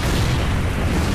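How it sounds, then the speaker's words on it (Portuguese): A loud, sustained explosion booms and rumbles through the Resident Evil 4 final battle against Saddler, filling the whole moment with dense, roaring low-end noise and no talking. "Aí ele explodiu."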